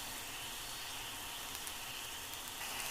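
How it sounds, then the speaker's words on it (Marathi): A fenugreek dish base sautéing in a pan gives a steady, soft sizzle with a hissy frying texture, constant and close, with no talk. "आता हे परतून घेऊया जेणेकरून हे करपून जाऊ नये"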